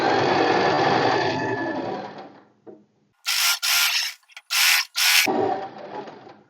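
A sewing machine stitches a kurti seam in steady runs, with a long continuous burst followed after a pause by several short bursts of stitching at close range, with no talking.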